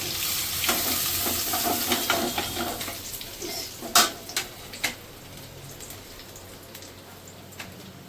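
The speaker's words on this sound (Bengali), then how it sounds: "এবার আমি মাছটাকে ভালো করে ভেজে নিই" Katla fish frying in a pan of hot oil, a crackling sizzle that starts busy and loud, then settles to a quieter hiss, broken by a few sharp spatters and pops midway.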